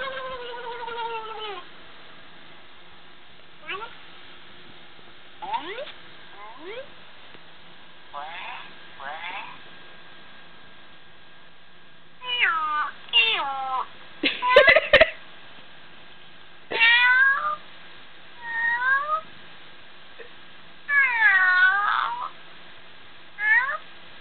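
A cat meows repeatedly, short rising and falling cries scattered through the clip, sounding thin and a bit filtered, with a quiet pause between calls.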